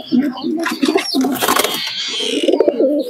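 A male Giribaz pigeon coos in repeated low rolling phrases close by, with someone talking over part of it.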